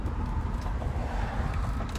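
Congested street traffic rumbles as a continuous low engine drone with faint passing vehicle noise, steady and fairly loud, with no voices.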